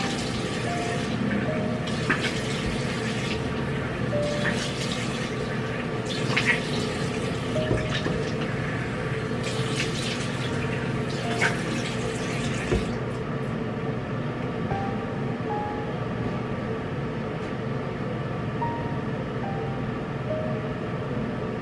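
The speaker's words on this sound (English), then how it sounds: "Okay, now it's time to wash off the face mask." Tap water runs steadily into a sink while a face mask is rinsed off, a loud continuous rush with splashing and intermittent hand scrubbing, no talking.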